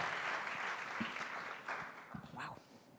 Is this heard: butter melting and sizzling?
no